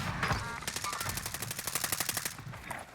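Automatic weapon fire in Call of Duty Warzone, a steady rattling burst of evenly spaced shots lasting nearly two seconds, at moderate loudness with game ambience around it.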